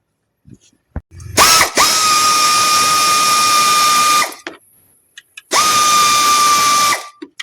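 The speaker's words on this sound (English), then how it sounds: "air tools, pneumatic tools makes our lives much easier" A pneumatic air tool works the tensioner pulley bolts on a Toyota Innova engine in two loud, close bursts of whining and rattling, each lasting a few seconds, with a short pause between them.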